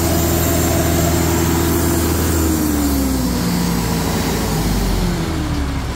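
A heavy tractor engine roars loudly and continuously, revved to clear water from the clutch plates of a hard clutch, its pitch sliding slowly as the throttle is held and eased.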